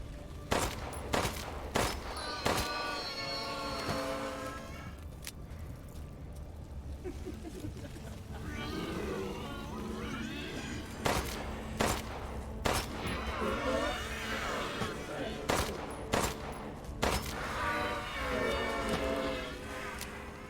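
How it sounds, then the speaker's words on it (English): Gunshots in Resident Evil Village: Shadows of Rose pop out as sharp single shots in irregular clusters, fairly loud over a rumbling ambient game backdrop with occasional murmuring sounds between volleys. "Disturbing lack of impact with those bullets."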